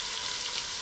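Three pounds of hamburger meat browning in an Instant Pot, giving a steady, close sizzle and hiss that runs evenly and alone throughout.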